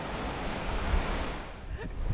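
Ocean swell washing and rolling in steadily at sea, a broad wash of surf with wind noise over it, no voices.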